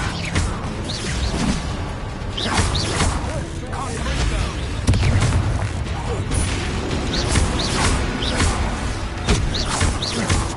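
Confringo spell explosions in the Hogwarts Legacy game, repeated booming blasts and whooshes rolling through dense combat noise, loud and close, with voices shouting among them.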